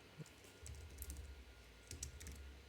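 Fast, quiet clicking of computer keys runs in quick bursts over a low background hum, the taps close and light with brief gaps between runs.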